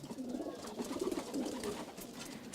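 Racing pigeons cooing at a loft, several soft rolling coos in quick succession, fairly close and quiet with no talking.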